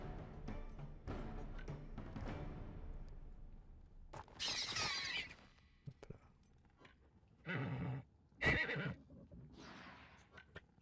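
Horse neighs and whinnies in the video game Wartales, several separate loud calls spread through the stretch, with faint hoof clip-clops and game background noise in between.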